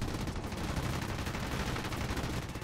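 Machine guns on a Soviet I-15 biplane fighter fire in War Thunder, a dense, continuous rattling burst that fills the whole stretch with loud crackling and no talk.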